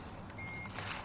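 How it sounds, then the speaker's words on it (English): A car's electrical power coming on during hotwiring, a brief steady electronic beep tone over low background hum, close and fairly quiet. "that's the sound of the power coming on"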